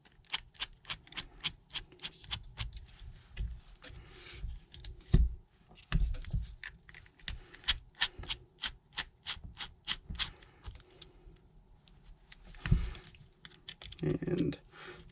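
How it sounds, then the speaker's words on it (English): Quick metallic clicks and rattles from screws being worked loose on an AAP-01 pistol's aluminum M-LOK handguard, close up, with a few heavier knocks from handling. "Just unscrew these two screws here."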